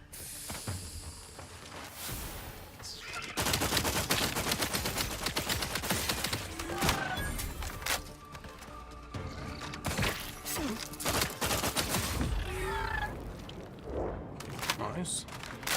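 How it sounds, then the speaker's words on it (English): Assault rifle fire in the video game Outer Worlds 2, rapid bursts of shots crackling over a busy battle din, with a voice talking underneath. "And the gun's not bad. The assault rifle."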